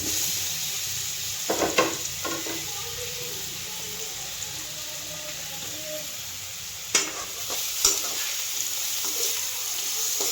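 Pieces of ripe jackfruit fry in a little hot oil in a wok, giving a soft continuous sizzle broken by a few scraping stirs and utensil clinks.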